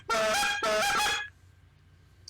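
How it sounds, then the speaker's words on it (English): A flute-style goose call is blown in two loud honking notes, each breaking upward in pitch, followed by quiet room tone. "this call is more or less along the lines of the Goose Flute"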